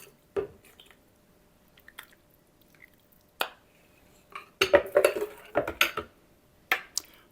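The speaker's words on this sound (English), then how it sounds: "it's always nice to have a little drip plate so you can ladle and go right into the blender" Soup of sweet potato and red curry ladled into a blender, with a ladle clinking against pot and a drip plate, followed by wet pouring splashes in short close bursts with quiet gaps between.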